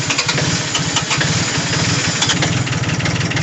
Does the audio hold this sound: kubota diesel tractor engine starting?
yes